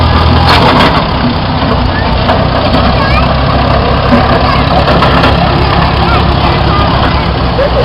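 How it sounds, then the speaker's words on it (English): A 1927 Whippet truck engine runs steadily and loudly close by at a harvest reunion show, a continuous low rumble with no break across the clip. "he's driving a 1927 Whippet truck"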